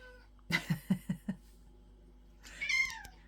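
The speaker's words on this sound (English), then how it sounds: "And here comes my cat." A house cat lets out a quick series of five short, close meows, then after a pause a longer, rising drawn-out meow, with no talk over it.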